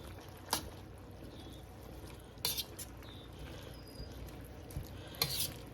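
A spoon stirs a sauce of vinegar, soy sauce and sugar, faint and soft, with a few brief clinks against the container at irregular moments.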